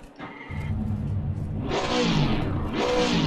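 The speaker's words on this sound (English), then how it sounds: "Let me start my car." A race car engine in Assetto Corsa Competizione cranks over, catches and settles into a steady mid-pitched idle, then blips into two loud rising revs, close and alone.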